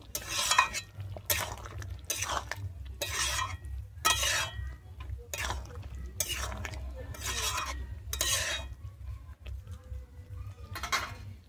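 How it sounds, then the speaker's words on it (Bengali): Potol chingri curry with ghee stirred in a pan, a series of scraping spoon strokes against metal at a steady rhythm over a low simmering sizzle, close and without talk. "দিয়ে আমি আবারও ভালোভাবে মিশিয়ে নিচ্ছি"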